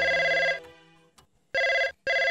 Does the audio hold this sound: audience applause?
no